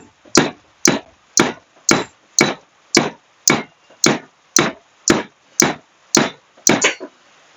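Steady hammer blows ring out one after another during repairs on a 6x6 vehicle, about a dozen sharp strikes at an even pace, loud and close, with no talking.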